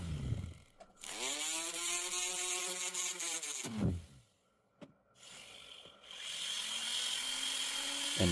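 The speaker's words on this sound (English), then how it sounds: "I'm taking a little ball burr by hand to make sure there are no sharp edges on the insides of those" A small ball burr worked by hand inside a jewelry ring, smoothing diamond clean-out holes, gives a close, steady rubbing rasp that pauses briefly midway, then resumes with a fainter whirring texture.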